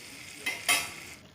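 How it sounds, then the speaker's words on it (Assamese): Chickpeas frying in oil with cooked-down tomato in a pan, stirred with a utensil: two short scraping stir bursts rise over a low, steady sizzle, close and fairly quiet. "বুটখিনি দি এনেধৰণে লৰাই কিছু সময় ভাজিব লাগিব"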